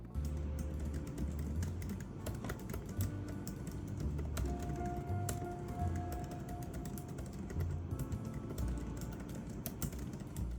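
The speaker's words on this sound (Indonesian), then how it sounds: "ini adalah contoh dari penggunaan keyboard tersebut" Keys clatter softly on the backlit keyboard of a MacBook Pro M4 Pro base model, a quick irregular patter of light taps that runs steadily and close for about ten seconds with no talk.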